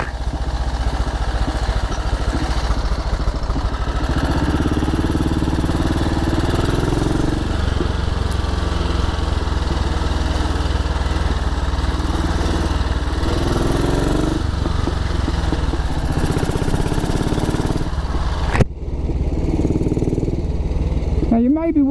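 A rigid 1944 Ariel W/NG-based trials motorcycle ridden along a green lane, its engine droning steadily and loudly throughout with rough clatter over the track, then cutting out near the end.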